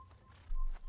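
Horse hooves in the video game Assassin's Creed, a few soft clip-clop steps with a heavier low thud near the end, faint against a quiet game background.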